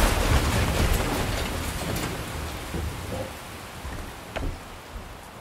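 Heavy rain pours during a cyclone storm, a dense hiss with rumbles of thunder that fade from loud to softer, plus a few sharp cracks and thuds later on.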